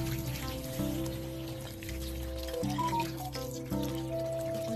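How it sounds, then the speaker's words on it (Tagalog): Hot water pours from a kettle into a pot for boiled pork leg, a continuous splashing flow with brief breaks, heard against a sustained tonal background hum. "Ito lang mainit na tubig."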